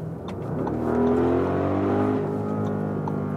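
A premium electric or hybrid SUV accelerates to overtake on the road, its engine and drivetrain rising in a smooth, sustained interior hum and whine that swells then holds steady.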